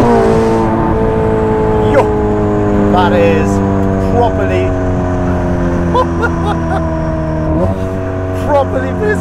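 A Ferrari 458 Speciale fitted with a Novitec exhaust idles loud and close, then blips its revs in several sharp rising and falling sweeps over a steady rumble, with a voice talking over parts of it.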